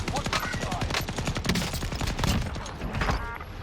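A Bren gun fires in Warzone Caldera in a long, steady rapid stream of shots. The fire carries at a fairly even level across the whole stretch, with no talk over it.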